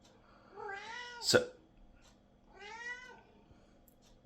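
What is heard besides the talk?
hungry cat meowing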